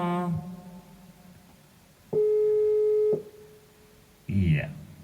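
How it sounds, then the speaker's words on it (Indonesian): A telephone tone on a radio phone-in line, a steady beep of about a second standing alone in a quiet gap, with short bursts of voices before and after it. "Iya, masih berdering barangkali."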